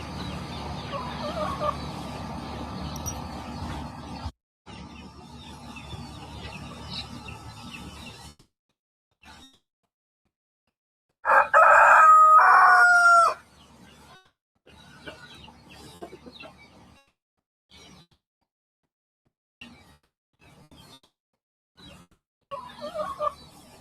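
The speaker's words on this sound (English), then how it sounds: "Max the dog playing with his duck friend Fred never fails to make your day." A duck with a dog: loud, close quacking and gobbling bird calls burst out in the middle among scattered fainter sounds and gaps, with some background noise.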